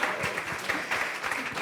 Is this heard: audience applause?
yes